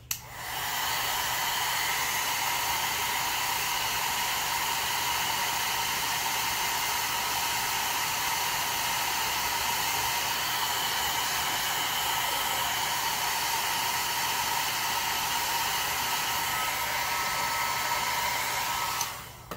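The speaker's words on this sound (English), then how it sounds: "So we're gonna hit this again with the blow dryer." A handheld blow dryer runs steadily for the whole stretch, drying glue on a painted Dollar Tree pumpkin for a crackle finish, a loud, even whooshing roar that starts and stops cleanly.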